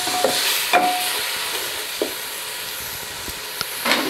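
Tomatoes being mixed into a boiled fish and Irish potato dish, giving soft hissing sizzle with a few sharp stirring knocks and scrapes at irregular intervals, close and steady, with no talking.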